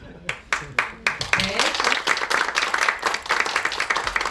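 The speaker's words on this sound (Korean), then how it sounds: "큰 박수로 축하해 주시기 바랍니다." Applause from a crowd at a Gyeongsangbuk-do signing ceremony, starting with a few sharp separate claps that quickly swell into steady, dense clapping.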